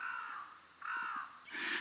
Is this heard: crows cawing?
yes